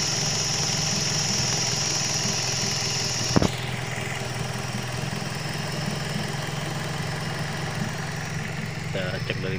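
A Toyota Vios car engine idles steadily after a repair for rough running, a smooth continuous hum with one sharp knock midway and faint clicks near the end.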